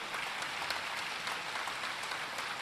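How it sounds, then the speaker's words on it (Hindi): An audience claps loudly and continuously at a religious gathering, dense applause from many hands with no speech over it. "तो जोरदार ताली बजा करके"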